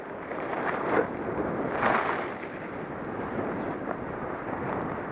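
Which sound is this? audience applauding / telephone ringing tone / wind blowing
wind blowing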